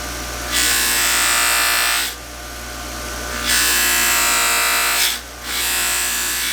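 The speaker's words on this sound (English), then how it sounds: "Now we're going to give it a little buffing with some white compound and see what that does." A Tikka T3 Deluxe rifle bolt is buffed with white compound, a steady high-pitched motor whine that rises and falls three times as the polished bolt is pressed against the wheel, loud and close with no talk.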